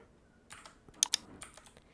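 Computer keyboard typing, a product description being entered for a Shopify digital product listing; a short, quiet burst of a few soft key clicks with a couple of sharper taps, no voice.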